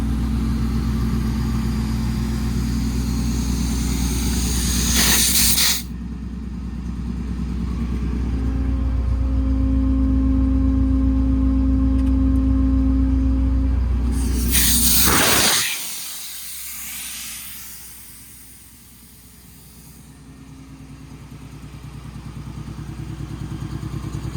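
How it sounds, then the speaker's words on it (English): Air compressor on a 2022 Ford F-550 service truck with an IMT Dominator bed and crane, running as a steady loud hum and rumble, broken by two sharp bursts of hissing air before winding down. "Flip this on for the compressor to come on."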